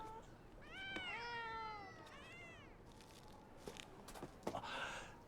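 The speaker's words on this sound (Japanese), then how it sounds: "猫だらけ。いや、猫の集会。" Several cats meow in a drawn-out, wavering chorus at a gathering of cats, the calls overlapping for a couple of seconds before giving way to soft shuffling, footsteps and scattered rustles.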